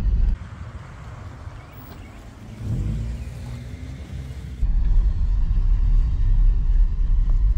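Nissan 300ZX engine rumbling from inside the car on a first test drive, a low drone that swells with a revving rise mid-way and grows louder and steadier toward the end.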